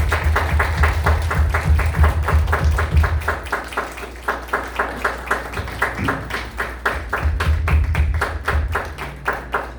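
A church congregation claps along in a steady, even rhythm, many hands striking together on each beat with a low hum underneath, the clapping continuing without pause throughout.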